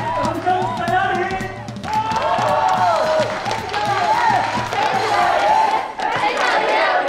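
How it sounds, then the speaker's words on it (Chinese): A bar audience claps, cheers and whoops for a singer. Many voices and chants ride over a steady low pulse, and the crowd noise stays loud and continuous throughout. "掌声在哪里？"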